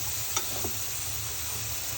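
Prawns and jackfruit seeds stir-fry in a curry, a soft steady sizzle at low level with a couple of brief utensil taps early on.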